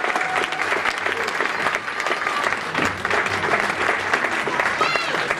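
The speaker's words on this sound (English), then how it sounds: "can you just applaud, give people some applause as they come off stage," Loud, sustained audience applause for performers coming off stage at a tribute event with a drum salute, dense steady clapping with crowd noise and some voices mixed in, continuing throughout.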